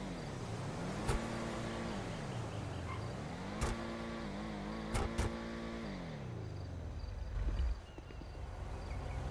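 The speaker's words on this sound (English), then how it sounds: "let's get behind this car and hear how this 4-liter V8 twin turbocharged engine really sounds." A 2018 Lamborghini Urus with a 4-liter twin-turbo V8 runs behind the car, its steady engine hum rising and falling in pitch, heard faintly with a few sharp clicks.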